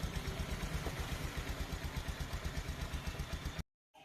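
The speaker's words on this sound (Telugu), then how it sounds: "నీట్గా వాల్ ఫిట్టింగ్ చేసి బైక్ అయితే స్టార్ట్ చేయడం జరిగింది" Bajaj Pulsar motorcycle engine idling after a new bore fitting, a loud close-up steady rhythmic chugging with even regular pulses and a light mechanical clatter, heard alone until it cuts off abruptly near the end.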